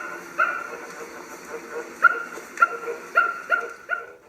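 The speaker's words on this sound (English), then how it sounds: "The toy makes some low noises at first" A Mickey Mouse toy gives off a series of short electronic grunting and growling sounds, repeated in uneven bursts over a quiet hum.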